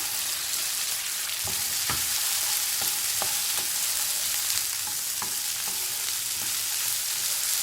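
Cluster beans for a Chettinad pachadi sauté in a hot pan with a steady, close sizzle, broken by a few soft stirring scrapes and knocks.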